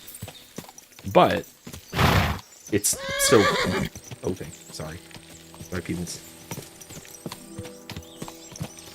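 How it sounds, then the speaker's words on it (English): Horse hooves clip-clopping in Kingdom Come: Deliverance II, a rhythmic run of sharp hoof knocks with a loud neigh near the start, set against in-game ambience while someone talks over it. "I've been having my horse hoof it"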